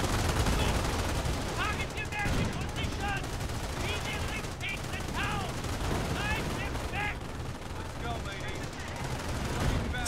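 Machine guns rattle in a Company of Heroes battle, steady bursts of gunfire layered over constant rumbling combat noise and scattered shouts, with someone talking over the dense, continuous din.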